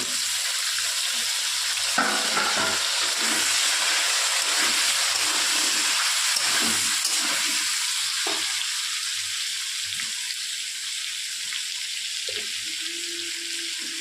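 Chopped Chandramukhi potatoes and tomatoes fry in a pan with a continuous close hiss and sizzle, broken by several sharp utensil knocks and scraping stirs.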